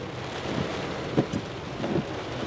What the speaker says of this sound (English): Raining and windy, of course.